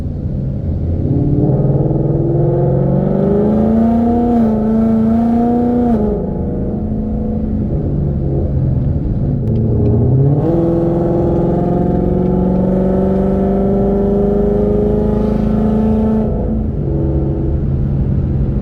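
A 2018 Ford Mustang GT with the 10-speed automatic, its V8 engine and exhaust droning loud and close while driving, pitch climbing through gears with a shift dip midway, alone without talk.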